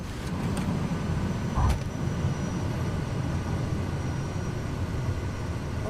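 An A320 airliner lands in Microsoft Flight Simulator, its engines a loud, steady roar throughout, with a single dull thump near the middle.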